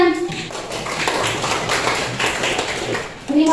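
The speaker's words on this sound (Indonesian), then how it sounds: "Tepuk tangan." Classroom applause from students after a lesson, a dense burst of clapping that lasts several seconds between bits of speech at the start and end.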